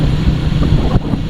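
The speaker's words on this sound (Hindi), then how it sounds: "और हवा इतनी तेज़ चल रही है ना यार" Strong wind buffets the microphone while riding a motorcycle on a cold day near a village, a loud, steady low roar of rushing air throughout with no talking.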